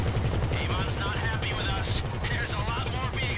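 Bursts of gunfire from a helicopter in GTA V during a Doomsday Heist convoy setup: rapid, pounding shots stutter in quick rhythm under rotor rumble while people talk over them.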